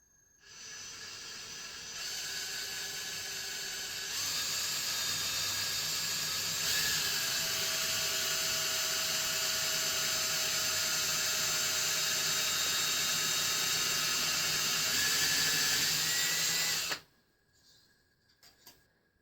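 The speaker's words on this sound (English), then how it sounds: "So I'm just going to hand drill this with that blade as level as I" Hand drilling a hole in a zero clearance insert plate: a high, steady whine runs continuously for about fifteen seconds, close and loud, with slight shifts in pitch, then cuts off abruptly into near silence. No one speaks.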